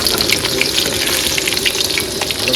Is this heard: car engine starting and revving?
no